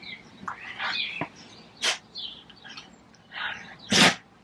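A person sneezes twice in a room, each a short sharp burst, with small chirpy sounds and faint noises between them and no talk.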